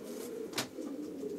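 Young pigeons coo softly in a breeding loft, giving a low, rounded, throaty call that is faint and brief.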